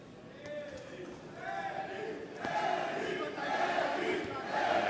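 A large crowd fills an arena at a boxing match in Montreal, a broad steady roar of voices and cheering that swells gradually over several seconds, with shouts rising above the din.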